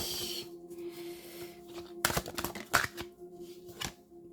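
Tarot cards being shuffled by hand. There is a quiet opening, then a run of papery riffles and slaps close by, rising and falling in short bursts.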